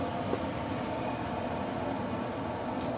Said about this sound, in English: If you hear that running in the background, that is the Smoke Pro Double XL.